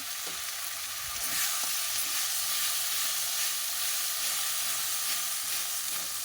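Cashew, ginger and tomato masala paste sizzles and fries steadily in hot oil, a continuous bright hiss that stays loud and even throughout, with occasional stirring scrapes underneath.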